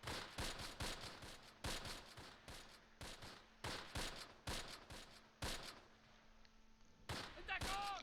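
Sharp, distant-sounding gunshots crack repeatedly in a WWII battle at Oss in the strategy game Close Combat Last Stand Arnhem, irregular single and paired reports over a low ambient hum, fairly faint overall.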